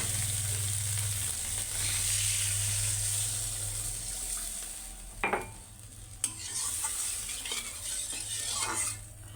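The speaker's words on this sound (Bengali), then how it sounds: "এবার পরিমাণ মতো পানি দিই," Water poured into a pan of sizzling spice masala for a rohu fish curry, a loud steady hissing rush that fades into bubbling, with a couple of sharp knocks near the end, no voices.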